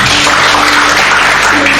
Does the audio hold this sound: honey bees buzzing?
no